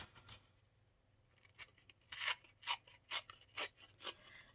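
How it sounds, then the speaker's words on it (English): Paper torn by hand for craft clusters, a quiet series of five or six short ripping bursts in a steady rhythm, close and alone with no talk. "I'm going to tear this down again."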